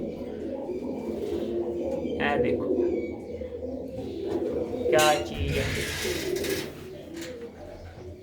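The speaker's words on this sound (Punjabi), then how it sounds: "ਪੂਰਾ ਵਧੀਆ ਬਲੱਡ ਹੈ ਇਹਨਾਂ ਕਬੂਤਰਾਂ ਦਾ" Pigeons coo softly in a Punjab loft amid rustling and chirps, while someone speaks briefly over them.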